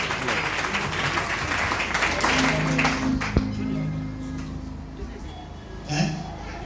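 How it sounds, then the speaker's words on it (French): A church congregation applauds during a sermon, a steady wash of many hands clapping at moderate volume that lasts the whole stretch, with a few voices mixed in. "Acclamez pour la parole de Dieu."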